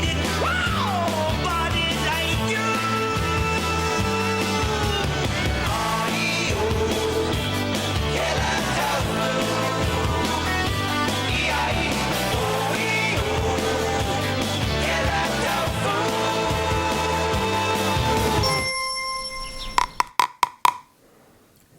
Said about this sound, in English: That is a chopstick tapping on top of a jar of natto.